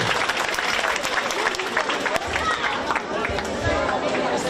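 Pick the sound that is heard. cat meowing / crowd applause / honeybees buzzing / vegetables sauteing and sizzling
crowd applause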